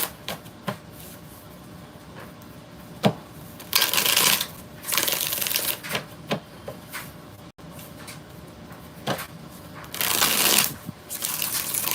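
Tarot cards being shuffled by hand: repeated bursts of crisp riffling and flapping, several separate shuffles spaced across the stretch with small taps and handling between them, close and clear.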